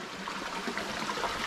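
Fresh water flowing at plunge pools in tropical North Queensland, a soft steady trickling stream, close and fairly quiet, running without pause.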